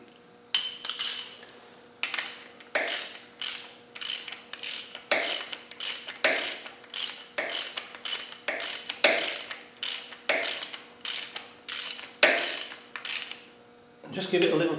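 Ratchet wrench tightening nuts on a Land Rover 300 Tdi engine during a rebuild: rapid rhythmic clicking in about twenty short bursts, close and clear, with no talk.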